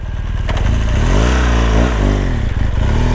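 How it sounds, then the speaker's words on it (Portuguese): A BMW 1200 motorcycle engine starting up, a loud close crank that catches and settles into a throbbing, slightly uneven idle with a brief rev near the middle. "Vou ligar, ó. Mano, a moto chega balança todinha, velho."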